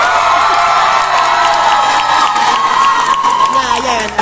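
A large crowd at an anime convention in Mexico cheers and shouts continuously, loud and close, with high-pitched yells rising over the roar.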